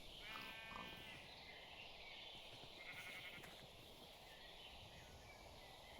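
Sheep in Minecraft bleat faintly in a quiet outdoor setting, a wavering bleat near the start followed by another softer call later, over low steady ambience.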